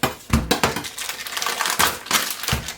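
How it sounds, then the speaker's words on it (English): A kitchen knife chopping bacon on a cutting board, with a series of sharp, close, irregular thuds and clicks in quick succession. "I'm going to chop up the bacon first"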